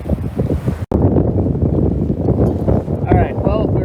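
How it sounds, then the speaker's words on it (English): Strong wind buffets the microphone aboard a hove-to sailboat at sea, a loud, gusty roar mixed with water sounds and a voice speaking over it. "Wind's still blowing 16, 17, whatever"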